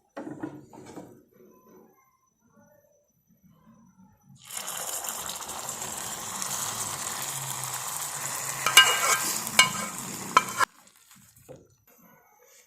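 Caramel and melted sugar being stirred into a semolina dessert in a pan: a steady sizzling, scraping mix for about six seconds with a few louder clinks, framed by near-silence before and after.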